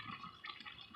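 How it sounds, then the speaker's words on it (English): Water poured from a cup into a cooking pot of collard greens and concentrated chicken broth, a short, steady splashing pour heard close up with no talking. "So I'm coming in with 1 cup. And then another cup of water."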